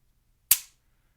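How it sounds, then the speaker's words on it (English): Single sharp dry-fire trigger click from a Smith & Wesson M&P 15-22 .22 rifle loaded with a snap cap, one crisp close snap in an otherwise quiet room. "the trigger, there's just a tiny little bit of take up, and this thing just breaks just after the tiniest bit of take up"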